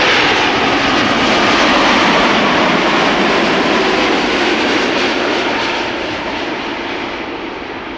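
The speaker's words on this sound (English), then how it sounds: "This is KLM flight 758, arriving from Panama City, 787 Dreamliner." KLM Boeing 787 Dreamliner arriving from Panama City, landing at Amsterdam Schiphol: a loud, steady broadband jet roar that slowly fades toward the end, with no voices.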